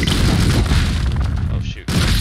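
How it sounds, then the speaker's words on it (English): A grenade blast in the top-down game Streets of Rogue: one loud, booming explosion that fills the moment, cuts off briefly and then swells again, with game noise behind it. "We're gonna throw this grenade in here."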